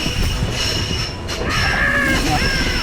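A metro train in Budapest passes close by, its wheels squealing in long high-pitched tones over a steady rumbling roar that stays loud throughout.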